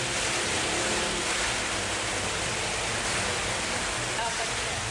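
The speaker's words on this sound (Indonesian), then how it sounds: "Hujan deras disertai angin kencang dan petir melanda seluruh wilayah di Kabupaten Maros" Heavy rain driven by strong wind in Maros, South Sulawesi: a dense, unbroken roar of noise that stays loud and constant from start to finish.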